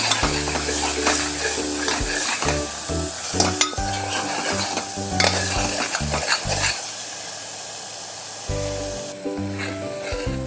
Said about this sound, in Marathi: थोडीशी हळद आपण हे सगळं छान परतून घ्यायचं आहे